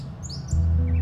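Gray catbird call played back through a phone bird app, a few short chirps and tweets heard close, with a steadier tone joining partway through.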